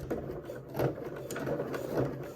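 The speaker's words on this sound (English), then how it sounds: "through the sewing machine, because there is a lot of bulk going on there, so it's quite thick to get through" A sewing machine stitches in reverse through thick, bulky bag fabric, a steady close mechanical whirring with slight surges as the needle pushes through the layers, alone without any talk.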